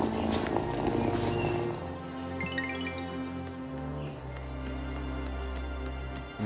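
A cat purrs in the farming game Wylde Flowers, a steady close rumble that rises and falls gently and runs alone without speech.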